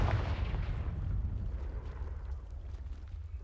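A Confringo explosive spell from the game Hogwarts Legacy bursts at the start with a loud, deep boom, then a rumbling blast tail trails off and thins out over several seconds, with no voices.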